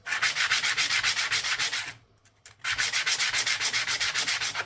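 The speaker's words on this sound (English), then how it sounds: "I'll just give it a couple of wipes with the old sandpaper just to make sure." Sandpaper rubs a ring made from a Ukrainian 50 kopiiok coin in quick, rhythmic back-and-forth strokes, loud and close, stopping for a brief moment before the same steady scratching starts again.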